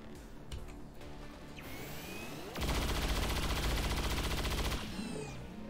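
Sustained automatic gunfire in the turn-based strategy game XCOM 2, a dense, loud rattling burst of about two seconds, framed by whirring mechanical sweeps and game effects before and after.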